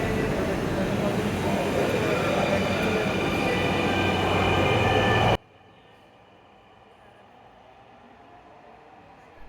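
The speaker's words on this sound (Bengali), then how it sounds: "ট্রেনটি আবার উত্তরা দক্ষিণ স্টেশন থেকে উত্তর উত্তর স্টেশনে চলে যাচ্ছে ট্রেনটি" A Dhaka metro train pulls out of Uttara South station with a loud, steady rumbling roar of wheels and motors that cuts off sharply midway, leaving quiet platform ambience.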